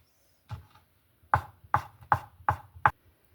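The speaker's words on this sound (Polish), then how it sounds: "bierzemy się za pokrojenie y, sera. O, też takie właśnie słupeczki" Knife chopping yellow cheese into sticks on a cutting board while preparing stuffed chicken breast, six crisp close thuds in a steady rhythm with no talk.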